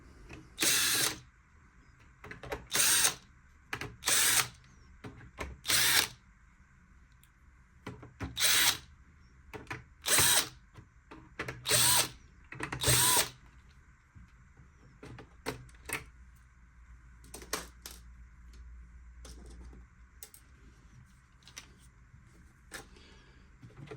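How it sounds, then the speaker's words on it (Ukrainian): A power screwdriver or drill unscrews parts of a Roventa 75s robot vacuum during repair, giving about nine short whirring bursts in a loose, irregular rhythm, followed by faint clicks and handling of the parts. No one speaks. "Після того, як відкрутили даний обруч, викручуємо дані гвинти."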